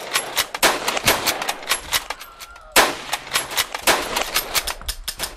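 Rapid bursts of machine gun fire in the video game Iron Europe crackle continuously, with sharp repeated shots and brief pauses between volleys, loud and close.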